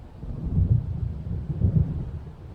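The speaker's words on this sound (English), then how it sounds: "It seems there's a storm coming." Low, rolling thunder from an approaching storm in the video game Alan Wake Remastered, two deep rumbling swells that rise and fade over a faint rain-like hiss, heavy and muffled with no voices.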